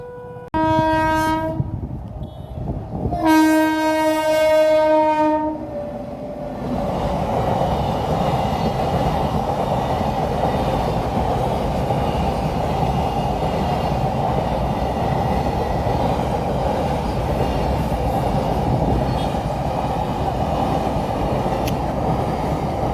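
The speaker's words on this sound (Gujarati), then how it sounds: "હવે થોડીક વારમાંથી ટ્રેન નીકળવાની છે ને ફાટક બંધ કરી દીધા છે." A train horn sounds in loud bursts at the closed Songadh railway level crossing, then the train rumbles past steadily and close for the rest of the time.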